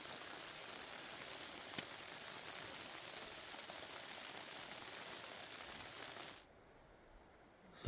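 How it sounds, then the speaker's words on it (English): Heavy rain drums steadily on a tent in the mountain backcountry of Alberta at night, a dense close hiss for about six seconds before it suddenly drops to a quieter patter. "bringing an evening of heavy rain."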